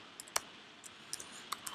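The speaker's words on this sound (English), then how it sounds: "Type my password." Keys struck on a computer keyboard while a password is entered at a Linux sudo prompt: a handful of sparse, light clicks spread out at an uneven pace, fairly close and quiet, with no talking.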